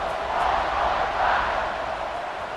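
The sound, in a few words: football stadium crowd cheering before kickoff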